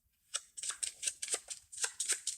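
A deck of game cards being riffle-shuffled close up, giving a quick run of crisp papery flutters and snaps after a brief quiet start.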